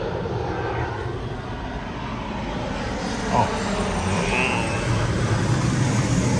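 A passing airliner overhead gives a steady, broad roar that swells slightly toward the end, with faint voices talking nearby.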